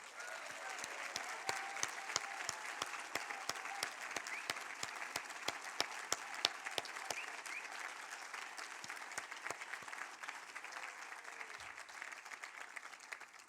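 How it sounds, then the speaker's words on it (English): A dinner-gathering audience gives a sustained round of applause, dense steady clapping from many hands lasting several seconds at moderate level with no talk over it. "we should have a special round of applause for Ben and Donna Rosen"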